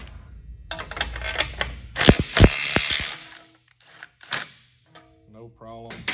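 Mac Tools 1/4 inch impact wrench driving a bolt during a torque test, bursts of rapid mechanical hammering and ratcheting, loud and close, separated by short pauses with a voice talking in between.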